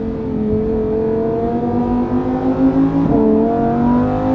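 A Lamborghini Huracan Evo taking a corner at full speed, its engine holding a loud, steady high-revving drone with a brief dip and recovery partway through.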